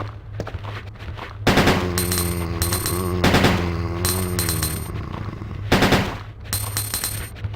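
Rapid bursts of gunfire in the survival horror game Biohazard 2, loud repeated volleys separated by short pauses, with a voice exclaiming over some of the shots.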